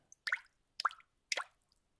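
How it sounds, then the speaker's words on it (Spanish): Water from a tap left open makes three distinct, close plopping splashes about half a second apart, each loud and wet, with near silence in between. "dejé abierta la canilla y está haciendo mucho ruido"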